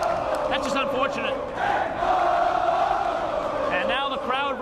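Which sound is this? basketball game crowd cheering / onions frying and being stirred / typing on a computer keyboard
basketball game crowd cheering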